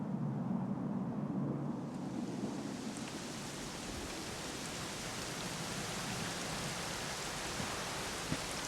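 Steady rain pours in the Dragon Quest XI role-playing game as a dense, constant hiss that carries on alone with no voices and a faint low rumble beneath.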